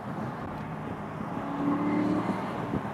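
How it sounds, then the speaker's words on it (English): A 2009 Aston Martin Vantage with a six-speed manual heard from inside while driving, its engine holding a steady drone that rises slightly, with a brief climbing rev tone midway, moderately loud and with no talking. "Listen to that sound of the motor, man."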